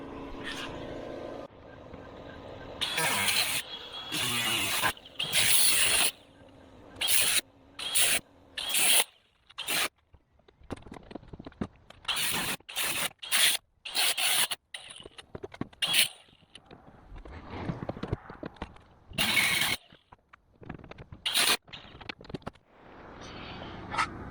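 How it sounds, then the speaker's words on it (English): A Sawzall reciprocating saw cuts through the ends of a U-shaped metal bracket on the rear door of a Jeep Cherokee XJ, with loud rasping bursts that start and stop repeatedly and quieter gaps between them. "I'm just going to try to get that sawzall in there and cut both ends of that bracket"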